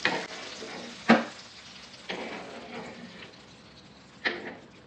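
Ghee-fried cashews and raisins stirred into a pan of kuzhakkatta payasam, giving a soft steady sizzle with several distinct scraping stirs spaced across the moment.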